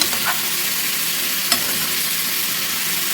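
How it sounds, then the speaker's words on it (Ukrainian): Steady sizzling of meat frying in a pan, with a couple of faint scrapes of stirring, loud and continuous with no voices. "періодично перемішую, щоб не пригорало. Треба перемішувати."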